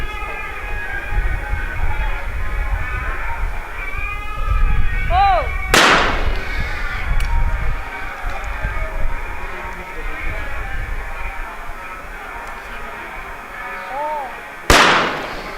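Shotgun shots in a women's trap shooting final at the 2017 ISSF World Cup in New Delhi, two sharp, loud blasts about nine seconds apart, with a commentator talking between them.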